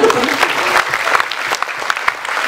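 Audience applause at a talk on waste and the environment, loud, close clapping with distinct individual claps standing out and a few faint voices mixed in.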